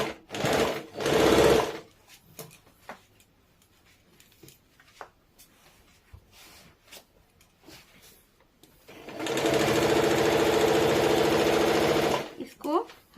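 A sewing machine stitches the side seam of palazzo pants in two bursts, a short opening run and then a longer steady whir of about three seconds, with speech and quiet handling sounds between them.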